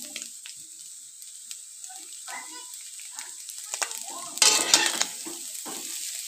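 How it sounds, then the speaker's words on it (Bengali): Chowmein noodles stirred and mixed with vegetables and egg in a wok using a spatula, giving soft intermittent scrapes and taps over a faint sizzle, then a louder scraping burst near the end. "খুন্তি দিয়ে ভালো করে আমি এপাশ ওপাশ নেড়ে চেড়ে ভালো করে মিশিয়ে নিচ্ছি।"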